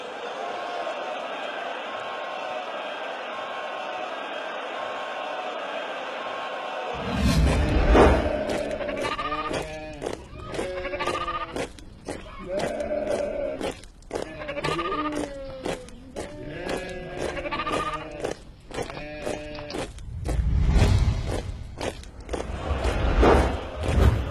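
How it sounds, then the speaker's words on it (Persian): Sheep bleat repeatedly in a Karbala desert setting, a flock giving several clear, wavering calls one after another, close and fairly loud, with dull thumps and movement noise underneath and a steady hum before they begin. "گوسفند کیست؟"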